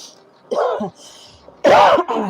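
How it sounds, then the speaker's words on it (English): Two or three throaty coughs and throat-clearing bursts, close and fairly loud, separated by short pauses. "I'm just coughing for no reason"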